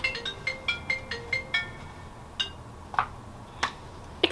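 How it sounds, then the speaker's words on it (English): A mobile phone ringtone plays nearby, a bright repeating chime of evenly spaced beeping notes, followed by a few sharper clicks over a steady background hiss. "Excuse my phone"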